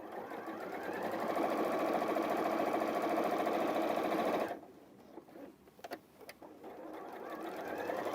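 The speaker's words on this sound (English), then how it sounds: "So sewing along each side along that pen mark until you get back to the point where you started." A sewing machine stitches along the sides of a fabric bag in a steady, loud mechanical whir, then stops, followed by a few quiet clicks and the motor starting again.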